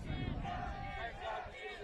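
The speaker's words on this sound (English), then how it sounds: "Already the loudest crowd we've had, maybe ever we've done a baseball game here." A crowd at a college baseball game cheers and roars in a loud, continuous wash of voices with no break.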